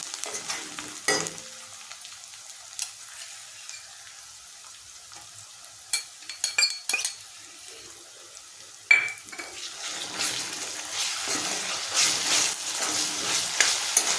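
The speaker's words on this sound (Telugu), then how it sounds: "పేస్ట్ ఒక 5 నిమిషాలు వేగితే సరిపోతుంది" Ginger garlic paste fries in a pan for a prawn and okra stew: a steady sizzle with scattered spoon clinks and stirring scrapes. The frying grows louder and fuller toward the end.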